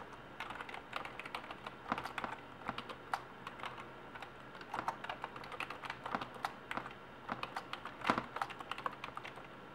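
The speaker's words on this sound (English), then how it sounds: "Now we'll type in these commands." Computer keyboard typing, with irregular bursts of close, crisp key clicks and a few louder taps as commands are entered on a computer, with no talking.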